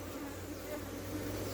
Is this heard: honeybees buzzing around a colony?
yes